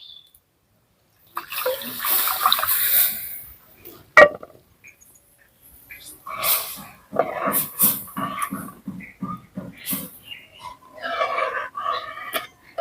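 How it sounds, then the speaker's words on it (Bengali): Remaining milk poured into a pot of caramel for sweet yogurt, a steady liquid splash in broken bursts over about eleven seconds, fairly close. "এবারে বাকি দুধটাও দিয়ে দিচ্ছি"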